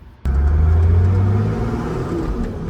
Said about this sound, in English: We'll go for a quick drive and we'll see how it is.